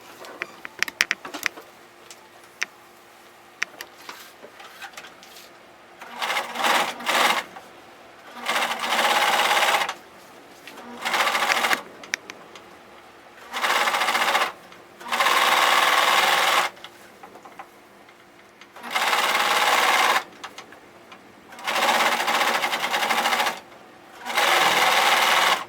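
A sewing machine stitches an armhole facing on a garment in a series of rapid mechanical whirring bursts, each lasting a second or two, separated by quiet pauses, close and loud with no talking.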